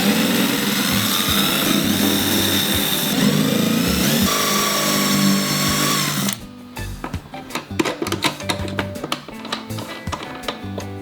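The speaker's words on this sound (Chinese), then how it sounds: "那我现在要准备来钻孔" A power drill bores holes in a sealed aluminium alloy box for a DIY LiFePO4 battery build, a loud sustained whining run for about six seconds, then scattered knocks and handling clatter.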